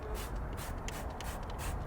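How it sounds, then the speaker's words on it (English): Undercarriage dressing sprayed onto the vehicle's underside components, a steady, quiet hiss of aerosol spray that continues evenly throughout with no talk. "all you have to do is simply spray it onto the surface"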